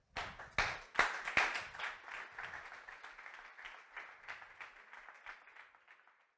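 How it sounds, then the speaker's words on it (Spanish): A church congregation gives applause, starting with a few loud separate claps that swell into scattered group clapping before thinning and fading out over several seconds. "Denle un aplauso a Jesús"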